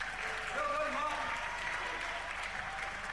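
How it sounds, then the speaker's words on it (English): An audience applauds at a rock show for a performer named Martin, a steady, moderate wash of clapping and crowd noise with faint tonal hum underneath. "a big round of applause for Martin"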